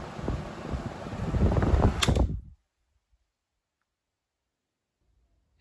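A homemade fan with cardboard blades runs on its high setting, giving a close, loud, steady whooshing rush for about two seconds before cutting off abruptly into near silence.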